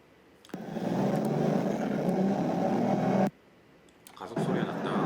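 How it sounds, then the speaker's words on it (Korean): A car engine sound effect in a ProtoPie car UX prototype rises as the pedal is pressed, holds steady for a few seconds, cuts to quiet when the pedal is released, then swells again. "가속 소리가 났다가 페달을 떼면은 줄어들고 감속되는 소리가 나고 이렇게 되겠죠"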